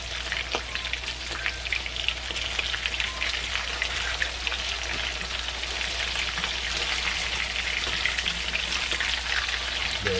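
A burger steak with a Japanese twist sizzles in a pan just after being flipped, a loud, steady, crackling fry hiss that runs unbroken for about ten seconds, close up and with no talking.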